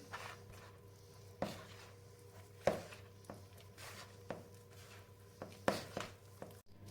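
Cookie dough for volcano cookies, with baking powder and vanilla mixed in, being kneaded by hand: soft, quiet pressing thumps and squishes repeating every second or so, close up, with no talking.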